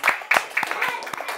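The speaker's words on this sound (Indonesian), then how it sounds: "Tepuk tangan dulu untuk teman kalian yang bertiga ini." Grade 5 schoolchildren in a classroom clap for three classmates, with close, rhythmic bursts of clapping repeating steadily for about a second and a half.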